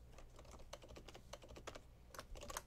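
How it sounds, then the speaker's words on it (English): Typing on a computer keyboard, heard as a quiet, close run of quick, irregular key clicks with short pauses. "I'll go ahead and just type message box"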